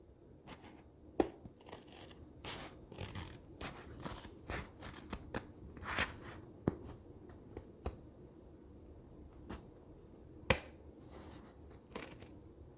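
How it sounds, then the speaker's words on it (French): Small scissors snip washi tape right at the edge of the diamonds on a diamond painting. Quiet, close-up crisp cuts come in an irregular series, some rapid and some spaced apart, with light rustling of the tape in between. "je coupe vraiment le plus proche du diamant possible"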